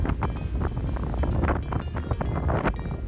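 Strong, continuous wind on the island of Gozo, Malta, buffets the microphone, a loud roaring rumble with gusty surges throughout and no voices.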